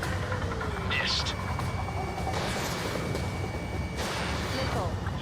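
Missile launches in Ace Combat 7: Skies Unknown on Xbox Series S during an aerial dogfight with UAVs, a dense continuous roar punctuated by whooshing bursts, with voices under the din.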